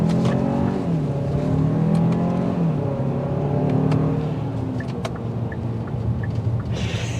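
A 2023 Hyundai Santa Fe Calligraphy on 20-inch wheels accelerates hard after a gear shift, its engine note climbing steadily in a loud, continuous in-cabin drone with rising tones and no talk.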